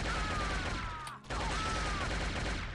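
Rapid bursts of automatic gunfire from the sci-fi shooter Shogo: Mobile Armor Division, played on PC in a marketplace area; dense and loud, with a brief gap of near-silence midway before the firing resumes.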